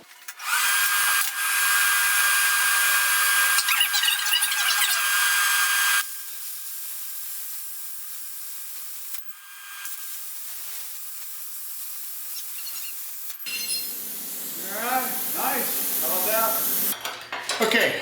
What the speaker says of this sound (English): we're gonna go ahead and do that with a plasma cutter. So let's fire that thing up and burn some metal